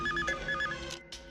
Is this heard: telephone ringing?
yes